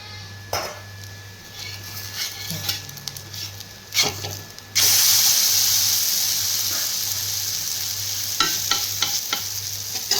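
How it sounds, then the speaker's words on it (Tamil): Sweet tapioca adai cooks in oil on a covered pan, giving a steady sizzle and hiss that swells suddenly loud midway and stays strong, with scattered scraping knocks and a low hum beneath. "இதுதான் அடை இதை ஊற்றிட்டு கொஞ்சம் எண்ணெய் ஊற்றுங்க"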